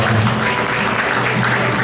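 Audience applause at a senior volunteer group's founding ceremony and senior model contest, a steady, dense clapping that fills the whole short stretch at close range, with no voices over it.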